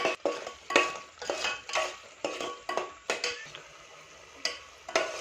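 Chicken curry masala with turmeric and chili powder being stirred in a pan: a rhythmic series of close spoon scrapes and knocks, roughly two per second, easing off near the end.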